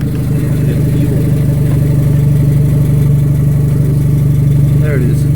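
A car engine with a rusted-out, detached exhaust pipe idles in a steady, loud, low rumble close by, its drone unbroken throughout.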